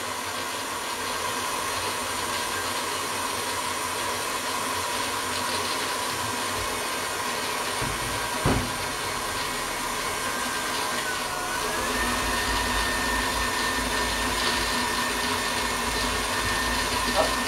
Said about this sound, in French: On fait un petit peu de bruit avec mon batteur, je suis désolé.